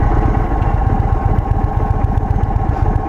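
A 2023 Indian Sport Chief motorcycle engine rumbles steadily and loudly up close during a test ride, a continuous low throb with a constant pulse and no voices.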